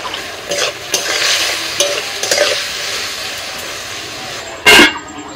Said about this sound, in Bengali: এইভাবে চিকেনটা কিন্তু ভাজতে ভাজতে সিদ্ধ হয়ে যাবে, আলাদা করে সিদ্ধ করার দরকার নেই